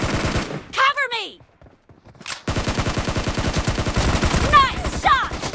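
Gunfire in the BGMI battle royale game, rapid bursts of automatic shots cracking close and loud, broken by a short quiet gap, with ricochet-like whines mixed in.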